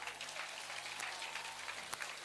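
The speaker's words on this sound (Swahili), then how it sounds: "Tafadhali mkaribisheni kwa makofi Mheshimiwa James Bazenga" Crowd applause at a Kenyan political rally welcoming Honourable James Bazenga Gakuya, a former Nairobi councillor, heard as a faint, steady spatter of distant clapping over the whole short stretch.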